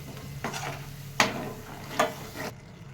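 Masala and tomato curry for rajma gravy simmering in a pan, a soft steady sizzle with a few stirring scrapes and two sharper clinks of a spoon against the pan.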